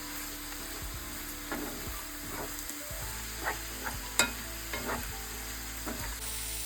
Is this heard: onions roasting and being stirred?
yes